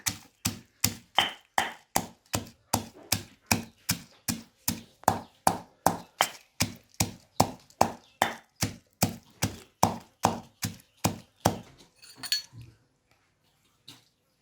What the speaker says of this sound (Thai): พอทุกอย่างลงไปในครกแล้วเราก็มานำมาโขลกค่ะ โขลกให้เข้ากันนะคะ